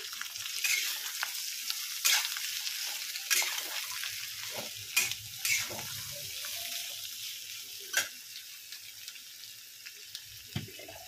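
Potatoes frying with red masala in a pan, a quiet steady sizzle punctuated by scattered scrapes and clinks of stirring, with no talking.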